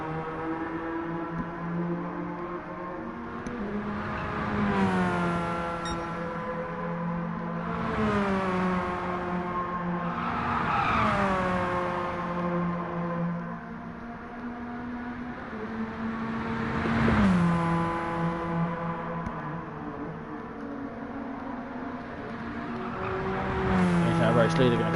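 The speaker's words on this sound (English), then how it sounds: "squeeze every little bit out of that little 2-litre engine that this car" A Radical Series race car with a small 2-litre engine racing at Circuit de Sainte-Croix, its engine note rising and falling through repeated gear changes and passes, loud and continuous, with a commentator talking over it throughout.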